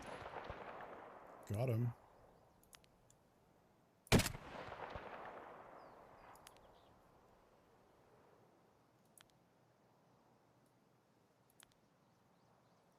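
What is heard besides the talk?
gunshots in the video game Escape from Tarkov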